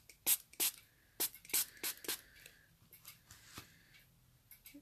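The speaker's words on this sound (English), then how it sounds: "let's use a bit of our water spray." Short hissing bursts from a handheld water spray bottle misting a mixed media canvas painting of a toucan, several quick spritzes clustered close together, then fainter scattered ones, close and fairly quiet.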